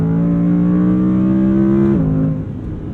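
Audi R8 Performance RWD coupe engine revving hard toward its 8,500 rpm redline, a loud rising tonal howl that drops sharply at a quick upshift, heard from inside the car.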